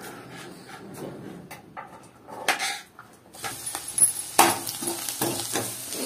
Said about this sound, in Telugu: ఇదే ఆయిల్ లో వేసి ఫ్రై చేసుకుందాం.